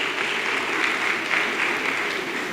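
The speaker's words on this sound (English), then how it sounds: "I think they deserve another round of applause" An audience at a career fair in Ibadan breaks into a continuous, even round of applause, many hands clapping at once with no voices above it.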